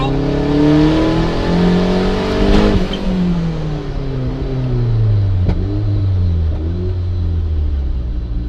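Engine of a 1994 turbocharged Mazda Miata with a misfire, pulling under quarter throttle on the road, a loud close drone whose pitch sweeps up and down with uneven wavering through the run.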